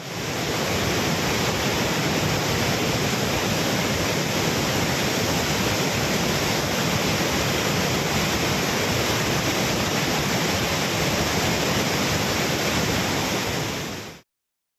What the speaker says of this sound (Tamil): இதனால் அகஸ்தியர் அருவி, மணிமுத்தாறு அருவிகளில் காட்டாற்று வெள்ளம் கரை புரண்டு ஓடுகிறது.